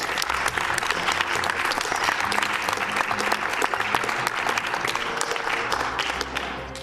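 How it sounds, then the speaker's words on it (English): An audience at a speedrun charity marathon claps in sustained, dense applause that fills the room, a faint voice underneath as the clapping tapers off at the end. "thank you, guy on the couch, for clapping"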